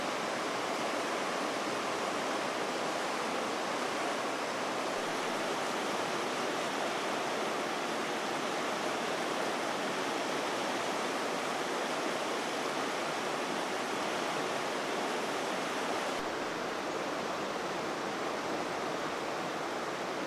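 Continuous broadband rush of Lolo Creek flowing, steady and even throughout, with no voices or other sounds.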